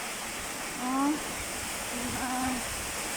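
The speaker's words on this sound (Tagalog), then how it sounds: "malakas pa ang ulan. Mahangin pa." Heavy rain driven by wind roars as a steady broadband wash throughout, with a voice briefly calling out twice over it.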